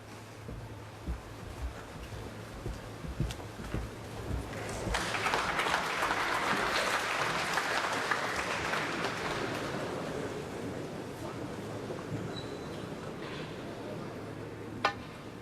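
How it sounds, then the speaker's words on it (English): A snooker crowd at the International Championship final murmurs steadily and swells at a tense point in the match, a broad low hubbub holding under faint clicks. "There's a lot of murmuring going on, isn't there?"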